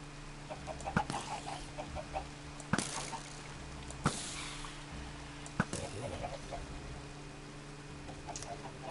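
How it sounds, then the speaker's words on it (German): Chickens cluck softly now and then in the Minecraft video game, under a steady ambient drone broken by several sharp clicks and thumps. "Na, schon wieder lauter Hühner."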